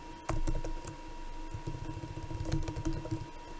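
Rapid, close keystrokes clatter on a computer keyboard as code is typed, with a short burst of quick taps and a few sharper key hits, no voices.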